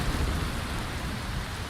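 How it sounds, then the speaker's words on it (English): Heavy rain in Skyrim, a steady dense hiss of downpour with a low rumbling undertone, continuous and close. "We do not get rain like this in Elsewhere."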